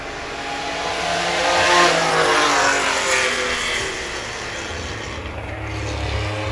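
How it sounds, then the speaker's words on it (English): Vintage race cars at the Pittsburgh Vintage Grand Prix produce a steady, broad engine roar that swells and fades as they pass, with a low rumble near the end. "There is an Austin Healey that's coasting very slowly to the finish line."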